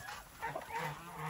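Three white turkeys on a farm giving faint, short gobbling honks at a distance, brief and low in level.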